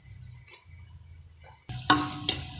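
Onion, cumin and curry leaves sautéing in a pan, a quiet low sizzle broken by a louder burst of scraping and clinking from the spatula near the end.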